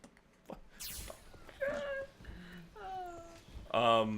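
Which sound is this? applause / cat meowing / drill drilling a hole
cat meowing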